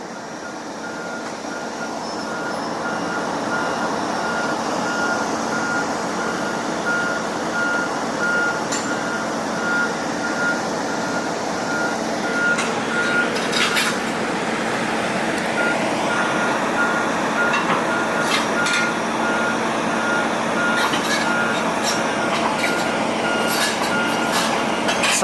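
A large truck's reversing alarm beeps steadily in a regular rhythm over a constant diesel engine rumble, with occasional clanks of equipment being unloaded.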